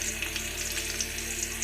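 A paste of cumin, garlic, ginger and dried chili sizzles in hot oil with fried onions for a mochar ghonto, a soft, even crackling hiss with tiny pops.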